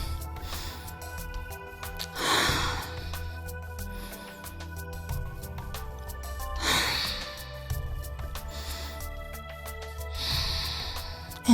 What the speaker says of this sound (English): Just a few breaths here.